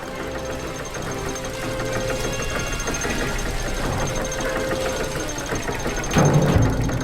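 Continuous machine engine running with a steady mechanical knocking rhythm in the fantasy adventure game The Book of Unwritten Tales 2, a dense constant drone that swells louder near the end.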